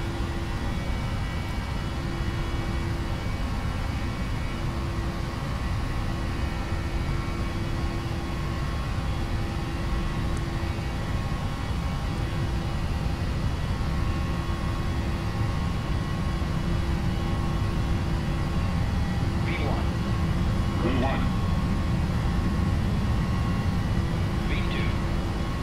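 Cockpit of a WestWind airliner on its takeoff roll out of Memphis, engines at takeoff thrust, giving a steady, loud broadband roar with a constant low hum, heard continuously from inside.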